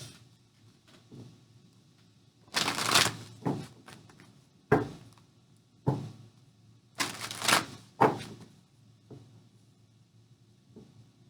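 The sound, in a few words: shuffling tarot cards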